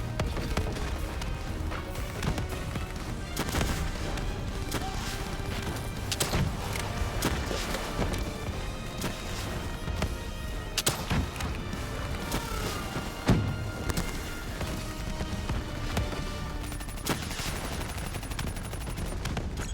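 Dense gunfire in Call of Duty Black Ops 3 rattles almost continuously, with rapid bursts and sharp cracks layered over loud game action and occasional heavy thuds.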